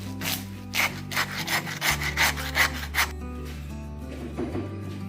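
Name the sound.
sawing a deer carcass down the middle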